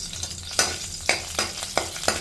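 Mustard seeds and cumin spluttering in hot oil in a kadai, a steady sizzle broken by about five sharp crackling pops at irregular intervals, close and moderately loud.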